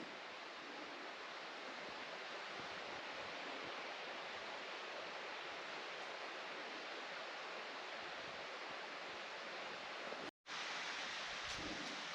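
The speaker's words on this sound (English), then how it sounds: "You can really hear the creek going over there at night." A creek flows steadily beside a mountain cabin at night, a continuous broadband rush of water heard alone and fairly close, with one brief dropout near the end.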